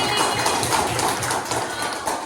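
Children in a classroom clap for a classmate: a steady burst of many small hand claps, close and fairly loud, lasting a couple of seconds with no talking.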